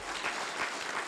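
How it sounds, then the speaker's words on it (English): Audience at a fire department awards ceremony applauding: dense, steady clapping from a crowd, continuous and moderately loud throughout. "How about a round of applause for the Williamson County Community Enrichment Center?"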